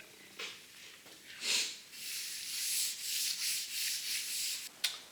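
Steady, raspy sanding of a spalted sugar maple cookie, continuous back-and-forth rubbing strokes close by with slight surges in intensity, no voices.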